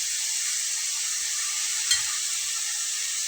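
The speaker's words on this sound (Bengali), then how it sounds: "বাস এতটুকু দিয়ে একটু নেড়ে চেড়ে নেব" Coriander leaves stirred in a pan with a little water, giving a steady bright sizzling hiss throughout and one brief scrape or clink partway through.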